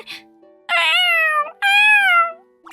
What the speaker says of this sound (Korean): 저기 저런 곳에 아기 고양이가.